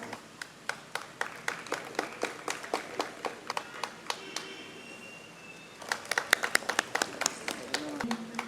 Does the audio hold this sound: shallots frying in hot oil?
no